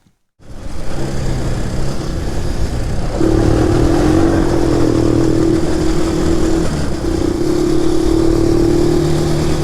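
A Chinese Shineray 250 quad bike engine running close by, a loud steady idle that rises into a higher, sustained drone partway through and holds there with slight wavering.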